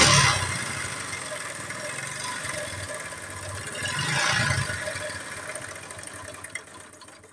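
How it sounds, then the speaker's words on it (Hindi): A running motorcycle engine idles steadily at close range, a continuous low rumble with a slight swell in the middle and no talk over it. "बिल्कुल स्टार्ट मोटरसाइकिल है।"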